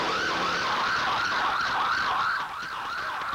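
Emergency sirens wailing in Baghdad after an attack, a loud rising-and-falling yelp repeating steadily over a background of road traffic.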